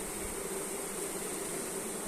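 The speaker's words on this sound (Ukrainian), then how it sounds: "Шумлять бджоли." A steady, dense buzz of many honeybees in a hive fills the clip, continuous and close, with a constant hissy texture and no voices.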